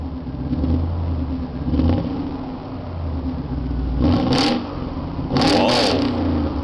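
A deep Audi V8 Quattro engine idles with a rumble, then revs sharply several times in quick bursts, loud and close.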